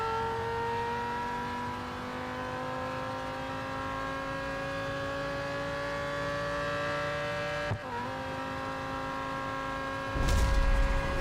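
McLaren Solus GT race car engine from Real Racing 3, a steady high whining drone that holds pitch for most of the run, with a brief dip near the end and a burst of louder rumble at the close.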